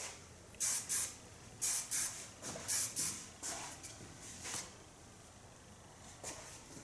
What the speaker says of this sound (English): Use hairspray where I can play with.